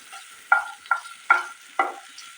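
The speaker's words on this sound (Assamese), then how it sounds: "এয়া পিঁয়াজ, নহৰু আৰু জলকীয়াখিনি অলপ ৰংচঙীয়াকৈ এইদৰে ভাজি লৈছোঁ।" Onion, garlic and green chili frying in a pan for breakfast, heard as four short sizzling bursts as the pieces are stirred, fairly quiet with near silence between them.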